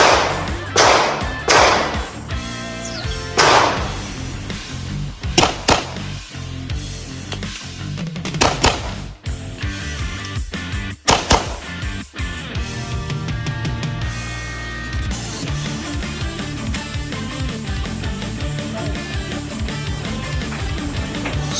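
Pistol shots in an IPSC shooting drill, sharp loud cracks fired in pairs with short gaps for magazine changes, then softer handling noises and a steady outdoor background.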